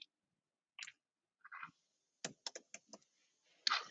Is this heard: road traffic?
no